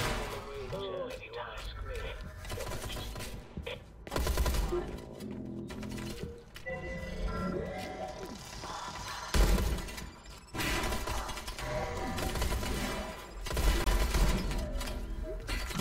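A shotgun fires in the video game Industria, with repeated loud blasts and shattering impacts amid busy game noise, while a person talks throughout.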